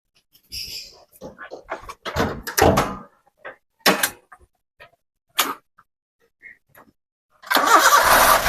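After scattered clicks, thumps and brief talk, a car engine cranks and catches near the end, roaring up loudly at close range.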